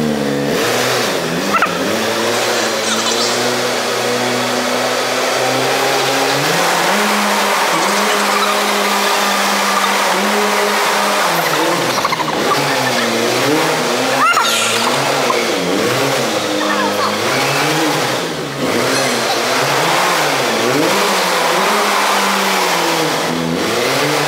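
A forklift doing donuts, its medium engine revving up and down in repeated swells while tires skid and squeal, loud and continuous throughout with a faint voice now and then.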